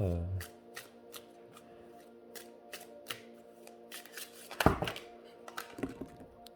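Glossy oracle cards being shuffled by hand, a run of crisp riffling flicks and soft taps with one louder clattering shuffle midway, close up, while a person talks quietly underneath.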